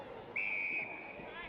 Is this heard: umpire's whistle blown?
yes